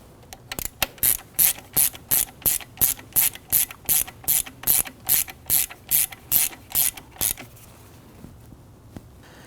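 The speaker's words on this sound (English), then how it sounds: "we're just gently going to go ahead and snug that down for now" A ratchet wrench snugs a nut onto the high-side AC suction hose of a 2009-2017 Volvo XC60, giving about twenty crisp, evenly spaced clicking strokes up close before the sound stops and the clip goes quiet.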